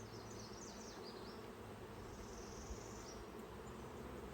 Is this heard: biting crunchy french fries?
no